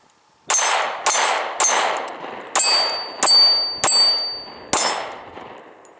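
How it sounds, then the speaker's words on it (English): Seven sharp pistol shots from a Smith & Wesson M&P Shield in .40 S&W, each followed by a bright ringing clang off steel targets, spaced roughly half a second to a second apart, loud and close with no talking. "take a few shots on some steel"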